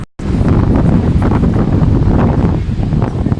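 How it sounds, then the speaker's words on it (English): Strong wind at Niagara Falls buffets the microphone in a loud, continuous low rumble that lasts the whole clip after a brief silent start. "It's super windy out right now."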